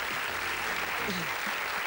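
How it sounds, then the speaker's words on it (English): An audience at a live magic show gives a steady round of applause that fills the whole moment, with a voice faintly underneath. "Big round of applause for Graham."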